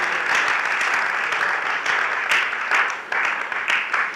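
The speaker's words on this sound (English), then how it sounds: "Keep clapping, keep clapping, keep clapping." At a youth fellowship boot camp, an audience gives a clapping ovation to welcome Professor Godwin Emmanuel Oyedokun: continuous, full applause from many hands, steady with slight surges, and no voices over it.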